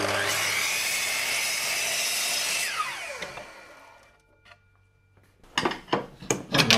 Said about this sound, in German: Einmal Kappsäge